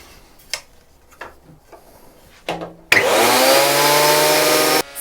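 Lumberjack PT254 10-inch planer thicknesser starts up with a sharp bump and settles into a loud, steady motor whine with a rising tone, then cuts off abruptly; a few faint clicks and knocks precede it.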